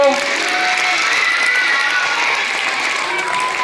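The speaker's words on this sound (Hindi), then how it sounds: "चलो जोरदार ताली बजाओ बच्चों" Schoolchildren at a middle-school retirement farewell for a teacher in Fatuha clap loudly in a steady, crowded burst, with a few shouts and cheers rising over the clapping.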